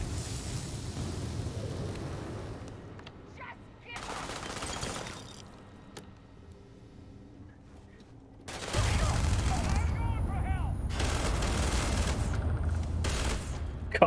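Rapid gunfire in the Starfield video game, fired in zero gravity aboard an abandoned ship: dense, loud bursts and volleys that drop to a quieter lull before erupting again into sustained firing.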